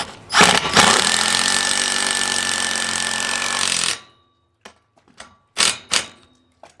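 Impact driver hammering a lag bolt into a dock, one loud sustained rattling burst lasting several seconds, followed by a few short blips of the trigger, up close.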